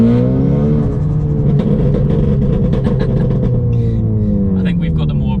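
A tuned 500 bhp widebody Ford Focus ST engine rumbles and revs up close, with sharp crackling pops and bangs from the exhaust scattered through the drone.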